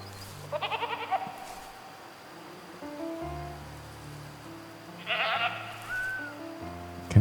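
Goats bleat in the distance in the hunting video game Way of the Hunter, a few wavering calls spaced apart over a quiet outdoor ambience with low tonal sounds underneath.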